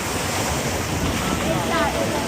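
Water on a log flume ride at a theme park rushes and splashes in a loud, continuous wash, with wind noise hitting the microphone.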